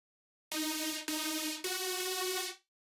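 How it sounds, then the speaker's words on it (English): Three bright super saw synth chords, chopped into sharp, evenly spaced hits, each swelling slightly under side-chain pumping before the last one rings out and cuts off. "I added a super saw."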